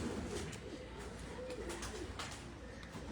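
Pigeons cooing from a rooftop loft, soft repeated coos set against steady outdoor background noise, fairly quiet throughout.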